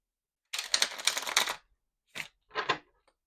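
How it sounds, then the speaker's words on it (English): A deck of cards, likely tarot, shuffled close up in a quiet room: a rapid crisp riffle of about a second, then two short follow-up shuffles. "Trying to shuffle these well back into the deck."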